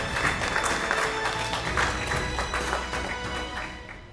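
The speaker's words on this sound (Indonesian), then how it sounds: "boleh diberikan tepuk tangan yang meriah" Steady, fairly loud applause fills an indoor televised innovation award ceremony, many hands clapping at once and tapering slightly toward the end.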